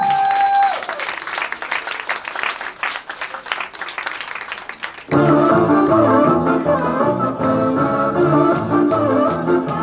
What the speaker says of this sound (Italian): accogliamola con un forte applauso, Lady Kiko!